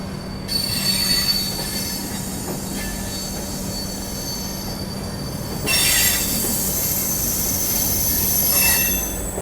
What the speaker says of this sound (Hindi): अभी देखो आनंद विहार रेलवे स्टेशन से अपनी ट्रेन निकली है